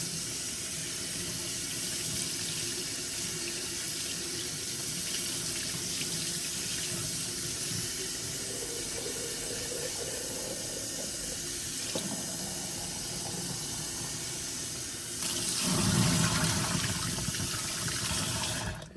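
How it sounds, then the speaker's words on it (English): A running kitchen tap rinses soap off a scrubbed item in a sink, a steady close splashing stream that continues evenly throughout and briefly swells louder near the end, with no voices. "If it starts to get really soapy, rinse it off."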